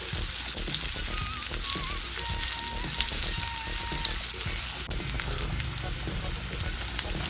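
Onion and garlic sauté with pork belly (liempo) in a pan, a dense, continuous close sizzle and crackle throughout with faint scraping underneath.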